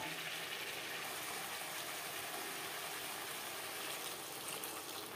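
Spice-rinsing water pours into a pot of fish curry with winter vegetables and cauliflower, a soft continuous hiss of liquid that stays steady and quiet throughout.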